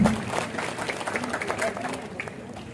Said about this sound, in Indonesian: Mari kita tepuk tangan yang meriah buat tim Belmawa.